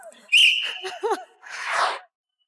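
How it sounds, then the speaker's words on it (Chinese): A small whistle worn on a cord is blown once in a sharp, steady shrill blast near the start, followed by brief vocal sounds and a breathy burst, close and clear in a quiet studio. "据说是但凡说不过就吹哨"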